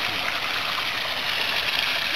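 A waterfall spilling into a frozen koi pond in January, its steady broadband rush continuing unbroken and fairly close throughout, with no voices.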